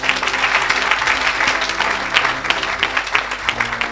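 A church congregation at a deliverance service applauds, its clapping a dense, loud, sustained roar that is steady throughout.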